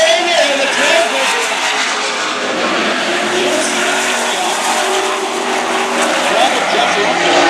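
A Super Truck at a dirt-oval speedway race spins out on its own with squealing, skidding tires and roaring engines, loud and continuous under a race announcer's commentary.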